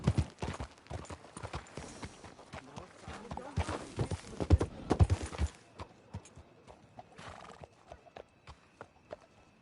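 Rhythmic hoof clip-clops from a horse on a hard surface in a video game, fairly close, with a brief whinny and some background voices mixed in.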